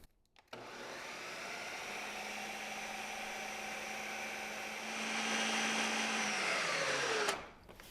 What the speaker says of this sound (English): right about 60 seconds for that to have blended nicely